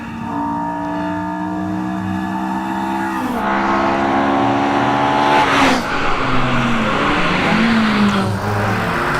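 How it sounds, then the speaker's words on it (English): Jeff Varden's Datsun race car climbs a hillclimb course at the Legend of the Lakes event, its engine revving loud and close, rising through the gears with sharp shifts and a brief tyre squeal. "And Jeff Varden's Datsun going up that hill now."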